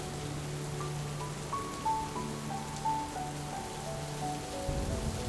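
Steady rain falling near a roadside bus stop, a constant soft wash of drops with faint tonal background elements, no talk.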